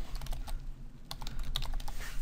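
Keys clack on a computer keyboard as text is typed into an After Effects layer, a quick irregular run of light close taps at low volume with no talking.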